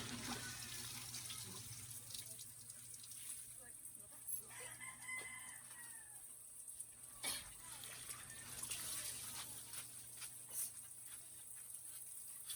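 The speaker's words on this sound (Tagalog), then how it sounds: "Bulwak-bulwak na yung tubig." Water gushes steadily from a tap during hand-washing of laundry, a faint continuous rush with soft clatter and a rooster crowing now and then in the background.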